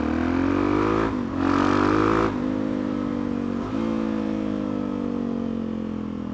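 A DRZ motorcycle fitted with a 440 big-bore kit, rejetted carburetion and a freer-flowing exhaust idles loudly up close, then blips into a sharp rev before settling back to a steady, slightly falling idle.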